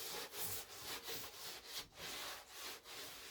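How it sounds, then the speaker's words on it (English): Linseed oil being rubbed by hand or cloth around the inside of a wooden potting tray, a steady close-up scrubbing and rubbing against wood in repeated strokes, with no talking. "And then all we do is just rub it round, making sure every surface"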